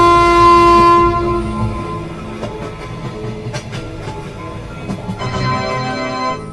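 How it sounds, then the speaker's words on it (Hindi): A cartoon train leaving a railway station: a loud sustained horn blast opens, then rolling wheels clatter and rumble, and a second horn sounds near the end. "तभी ये ट्रेन यहाँ से जाने लगती है।"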